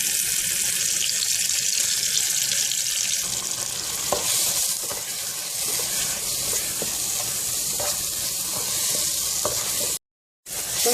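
Ginger, garlic and green chillies sauté in a pan for squid biryani, giving a loud, dense sizzle with faint stirring scrapes, close up and without speech, cutting out abruptly for a moment near the end.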